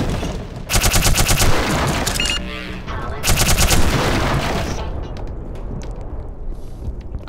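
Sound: gunfire from a gun in the video game Black Mesa

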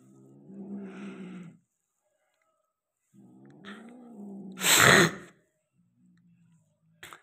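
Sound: cats yowling while mating

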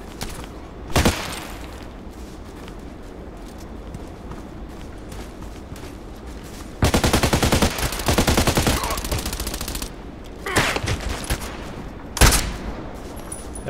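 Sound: sniper gunfire in video game Contract Wars

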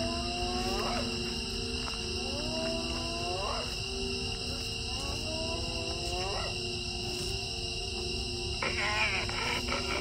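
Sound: hyenas calling

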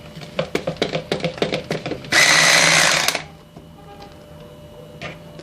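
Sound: electric hand mixer whipping cake batter

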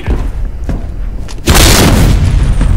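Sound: explosion in the video game

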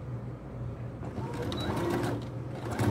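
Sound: sewing machine stitching a safety seam on fabric

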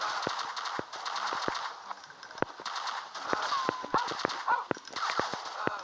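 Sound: gunfire in Commando video game

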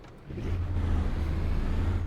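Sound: car exhaust and engine revving in a racing video game

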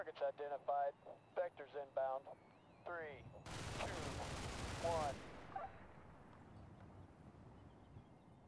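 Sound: MK 20 autocannon firing, Combat Mission Shock Force 2 video game

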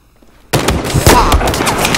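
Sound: gunfire from a gun in the video game Battlefield 4

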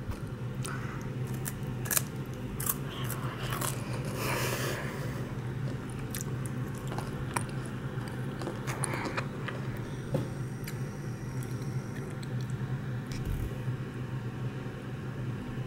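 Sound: biting and chewing crispy baked Kit Kat

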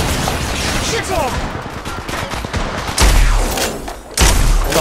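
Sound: gunfire in Apex Legends Mobile video game

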